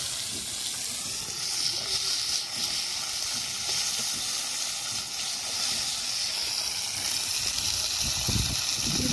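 Potatoes and onions fry in hot oil in a wok with black cumin and green chilli, a steady loud hiss and sizzle that runs unbroken from start to finish.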